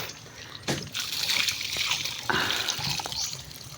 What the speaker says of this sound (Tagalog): nilagyan na natin ng tubig